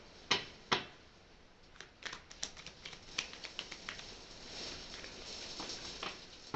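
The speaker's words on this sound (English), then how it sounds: "I can hear the ice hitting against my windows" Hail striking window glass, a run of sharp ticks and taps, a couple of louder isolated hits early, then quicker irregular clusters of smaller impacts against a quiet background.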